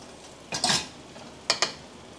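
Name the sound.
flipping a crispy noodle cake in a pan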